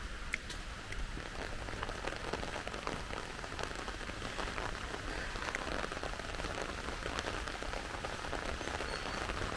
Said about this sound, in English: Although the rain is falling, but I have my umbrella